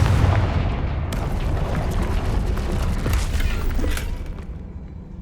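A Confringo fire spell is cast in the Hogwarts Legacy video game, setting off a heavy, rumbling blast with crackling bursts and a boomy roar that fades slowly over several seconds.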